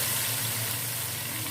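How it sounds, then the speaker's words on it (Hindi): Steady, dense sizzling of spices tempering in hot oil for kadhi pakora, close and fairly loud, with a constant hiss and no talking. "तड़का लगा लेते हैं।"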